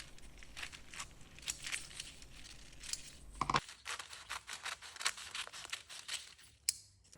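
Scissors snip through baking paper to cut it to size for a block of butter: a quick series of crisp, close cuts and light paper crinkles, with no voices.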